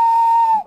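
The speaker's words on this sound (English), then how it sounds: "The guard blew his whistle" A guard's whistle blasts once, loud, shrill and steady, near the train, holding its pitch for over half a second before cutting off abruptly with no voices.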